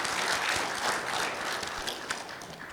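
Audience applause at the opening ceremony of a regional governance conference, a dense, fairly faint wash of clapping from a large crowd, steady and slowly tapering.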